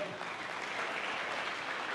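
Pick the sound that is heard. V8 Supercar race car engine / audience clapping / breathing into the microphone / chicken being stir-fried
audience clapping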